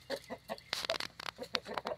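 Blue Andalusian chickens cluck softly nearby in a backyard flock, a busy run of short overlapping clucks and murmurs at moderate volume.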